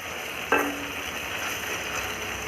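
Chopped vegetables fry in hot oil in a pan for capsicum rice, giving a steady, close sizzle that opens with a brief utensil clink.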